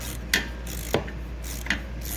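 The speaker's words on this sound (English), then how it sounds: "it's an M6 triple square to drive it out of there" A wrench and an M6 triple square bit are used to drive out a bolt while replacing the shocks and struts on a VW Jetta, giving three quiet, sharp ratcheting clicks spaced out in near silence.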